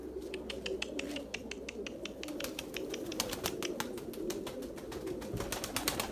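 Pigeons cooing in low, repeated murmurs, with rapid fluttering and clattering wing sounds over a steady outdoor background.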